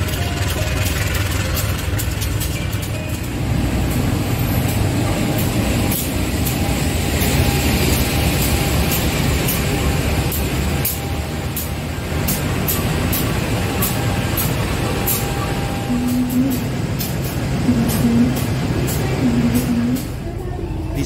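Argo Wilis passenger train standing at Kroya station, a steady low engine rumble with idling drone throughout, joined late by brief repeated tonal hums, loud and close.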